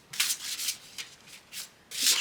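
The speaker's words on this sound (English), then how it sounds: "Let's shuffle here." Oracle cards from a Sacred Forest Oracle deck being shuffled by hand, giving several close, soft papery rubbing bursts in an uneven rhythm, with the last burst the longest and loudest and no talking.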